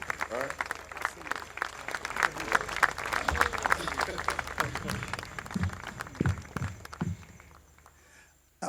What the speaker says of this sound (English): Give this man a round of applause, because what he does is not easy.